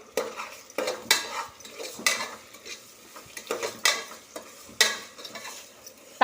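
Tomatoes with salt being sautéed in a pan for quail biryani, a spoon scraping and clacking against the pan in irregular bursts over a light sizzle, close and distinct with quiet gaps between strokes.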